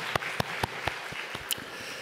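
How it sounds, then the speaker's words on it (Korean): Church congregation clapping during a Sunday worship service, a sparse run of about eight distinct claps spaced roughly a quarter second apart, fairly faint over quiet room tone. "우리 감사와 사랑의 박수로 같이 한번 하나님 앞에 박수 올려드리겠습니다."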